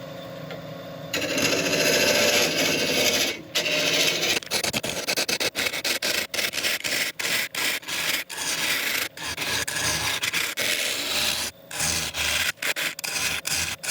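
A burl wood bowl turning on a lathe under a carbide tool, giving loud, close, continuous scraping and cutting with frequent brief breaks as the tool lifts off the spinning wood.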